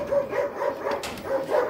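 A thirsty street dog giving a short series of rough barks and yelps, fairly close and steady in loudness, with outdoor noise around and no talk.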